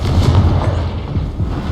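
A Confringo fire-blast spell going off in the Hogwarts Legacy game, heard as a continuous loud, rumbling burst with a booming low end sustained for under two seconds, no voices.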